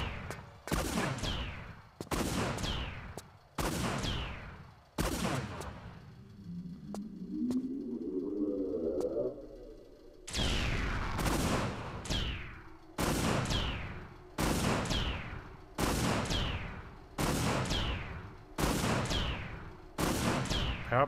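Repeated loud gunshots from Lara Croft's weapons in the video game Tomb Raider: The Lost Artifact, sharp blasts fired in a steady rhythm, broken by a short stretch of rising electronic tone before the shooting resumes.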